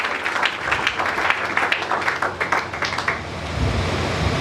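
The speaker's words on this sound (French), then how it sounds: "Acclamons pour le Seigneur Jésus." A church congregation applauds in praise of Jesus during a French-language sermon, a steady wash of many hands clapping close and loud, with a low rumble joining near the end.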